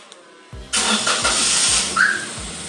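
A car engine starts by keyless Bluetooth remote start: a short series of cranking pulses, then the engine catches and settles into a steady, loud idle close by.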